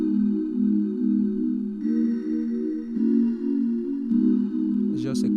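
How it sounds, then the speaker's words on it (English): A soft, sustained synth pad from the Noise Bells preset in FL Studio holds a calm chord progression with bell-like tones, chords shifting every second or so, ending in a short burst of bright noise. "same chords, but this one is a different preset called Noise Bells"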